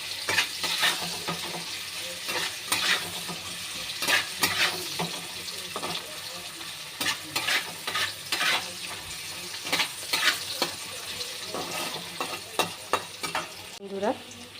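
Onions frying in oil with salt, a steady sizzle under repeated spatula stirs and scrapes against the pan, with occasional metallic clinks.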